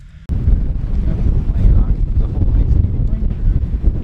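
Gusts of wind buffet the microphone outdoors on a Long Island road trip stop near a playground and pond, a loud low rumble starting abruptly and continuing steadily throughout with no talking.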